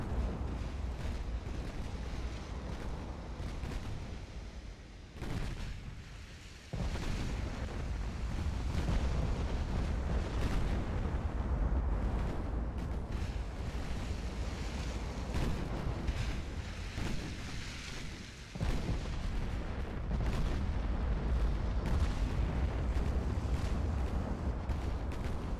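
Torpedo explosions in a naval warfare game, Ultimate Admiral Dreadnoughts with a Japanese fleet campaign, give a long, dense, rumbling roar of blasts and churning water that keeps up nearly without a break and swells again after two short dips.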